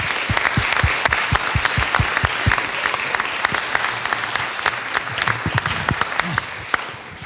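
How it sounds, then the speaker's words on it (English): Audience applause at an Illinois Supreme Court event, a room of people clapping steadily and close for several seconds, with sharp individual claps standing out and no talk over it. "they deserve a round of applause for all the work they did here today."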